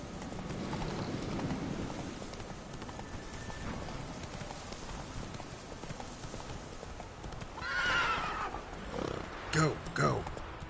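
A horse in The Witcher clip-clops at a steady gallop, hooves drumming throughout, then gives a loud, close whinny near the end.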